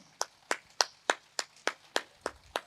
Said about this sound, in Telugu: సో ధ్యానాన్ని గట్టి క్లాప్స్ చేసుకుందాం.